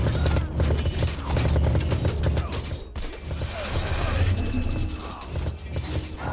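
A siege ram in an Age of Mythology battle pounds over a clatter of mechanical attack effects, with rapid impacts, thuds and ratcheting under dense game noise.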